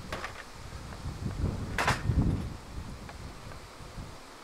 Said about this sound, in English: We do have some wind gusts that you can probably hear